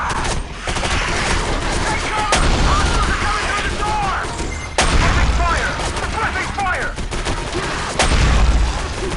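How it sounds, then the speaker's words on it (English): Dual shotguns firing together in the 2005 shooter Area 51, heavy booming blasts at about 2.4, 4.8 and 8 seconds over constant loud battle noise and scattered effects, with some talk in the background. "The secondary fire both guns at the same time, but it costs you 4 shells"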